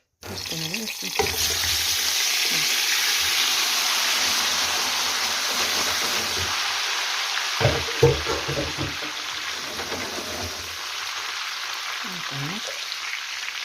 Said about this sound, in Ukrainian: сюди я буду закидати барабольку, щоб вона смажилася ще тут у цьому жирові